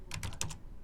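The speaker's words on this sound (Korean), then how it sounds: "이게 자꾸 타이핑을 하니까 안 됩니까?" A quick burst of about five soft keystrokes clicks on a computer keyboard nearby, over a low background hum.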